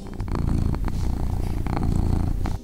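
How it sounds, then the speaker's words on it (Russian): A cat purring steadily and loudly up close, a continuous low rumbling throb with no other sounds. "Всем известно, что кошки всегда мурлыкают,"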